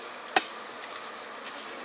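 Aggressive bees buzz at a large wild honeycomb, a faint, steady swarm hum broken early by one sharp knock or tap.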